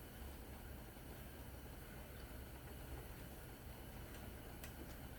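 A fanless propane heater gives a steady, quiet roaring hiss unchanged throughout, with a few faint ticks near the end and no voices.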